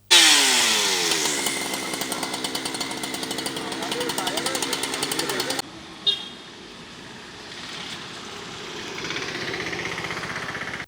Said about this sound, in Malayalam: Tirur fire force fire and rescue officer ലിമിൻസ് കുമാറിന്റെ നേതൃത്വത്തിലുള്ള അഗ്നിശമന സേന എത്തിയാണ് മരം മുറിച്ചു മാറ്റിയത്